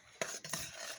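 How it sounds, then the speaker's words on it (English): Gravy mix being stirred into two cups of boiling water, giving two short scraping stirs close by that rub against the pot, with no talk. "Stir it all up"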